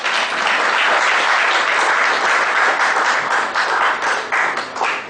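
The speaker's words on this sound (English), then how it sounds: "Friends, please stand for a round of applause." Audience at a tax seminar standing to give a full round of applause, loud sustained clapping from many hands that holds steady for the whole stretch and eases slightly near the end.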